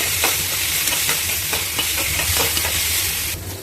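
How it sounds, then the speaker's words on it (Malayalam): Homemade ginger garlic paste sautéing in a pan for chicken curry, giving a loud continuous sizzle with irregular stirring scrapes, close and alone without voices. "ഇനി അതൊന്ന് അതിൻ്റെ പച്ചമണം മാറുന്നത് വരെ ഒന്ന് നന്നായി വഴറ്റിയെടുക്കുക"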